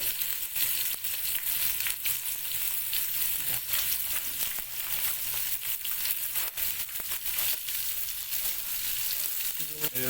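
Egg and potato curry frying in a pan with turmeric and chilli powder, a steady dense sizzle running through the whole clip, close and loud, with occasional clicks of stirring and no talking.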